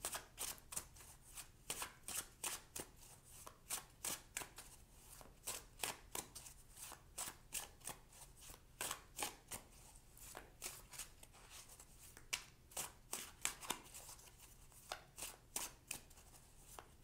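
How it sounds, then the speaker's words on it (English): Tarot cards shuffled by hand, a quiet, even run of soft slaps and riffles repeating steadily, with no talking. "So now let's choose two cards for possible outcomes."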